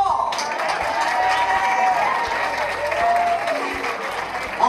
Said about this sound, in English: Big round of applause, everybody, for David Ball!